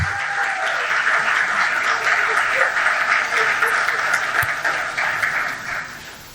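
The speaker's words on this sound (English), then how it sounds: "Please give her a round of applause." An audience applauds steadily as an iconic woman enters a Lekki roundtable event, a dense, even wash of clapping that holds for several seconds and thins slightly at the end.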